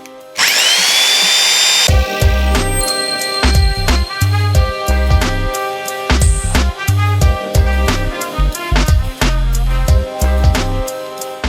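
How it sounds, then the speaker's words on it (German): Power drill working in bursts, whining up in pitch and stopping repeatedly over a steady pulsing beat, loud and close throughout with no talk. "Doch bevor wir damit loslegen, müssen wir erstmal ein wenig bohren"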